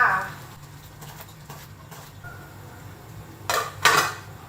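A spoon stirs tapioca pearls boiling in a pot, with sparse soft scrapes and a couple of louder metallic clanks near the end, while someone talks over a quiet simmering background.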